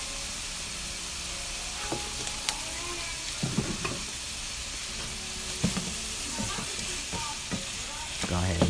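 Salted and peppered pork is stirred in a hot pan for taco filling, a steady sizzle of frying running throughout with scattered scraping and clinking of the utensil against the pan, close and moderately loud, no talking.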